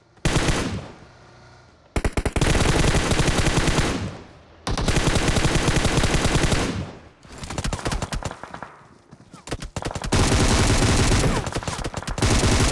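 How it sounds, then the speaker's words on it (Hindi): Loud, close automatic gunfire in a mobile shooter game comes in several long rattling bursts separated by short quiet gaps. "ये फायरिंग शॉट कहाँ से है"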